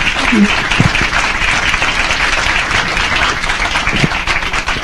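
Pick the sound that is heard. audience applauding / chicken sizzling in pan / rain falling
audience applauding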